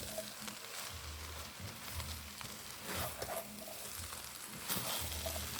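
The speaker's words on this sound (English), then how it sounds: "So you want to mix it really good." A spoon stirs turmeric rice in a pot over a soft constant sizzle, with repeated scraping strokes and low rumbling thumps at a moderate, uneven pace.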